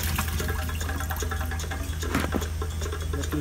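Running water rinsing raw oxtail in a kitchen sink, a steady continuous tap flow with faint splashing and handling of the meat, close and alone.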